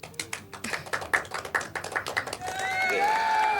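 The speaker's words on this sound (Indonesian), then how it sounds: "Wih, tepuk tangan dulu guys." Audience applause at an Indonesian business marketing talk show, starting as a run of distinct, rhythmic claps that swell into a denser, steady wash of clapping by the end.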